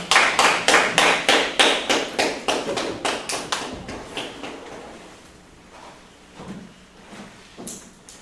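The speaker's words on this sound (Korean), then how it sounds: "박수로 환영해 주시기 바랍니다" An audience welcomes a professor at a lecture with evenly paced, crisp claps close by that gradually fade after about four seconds, leaving a few scattered claps and light room noise.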